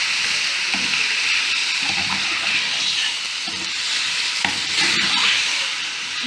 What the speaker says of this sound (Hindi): अब इसकी मैं 3 से 4 मिनट तक इसको ऐसे भूनेंगे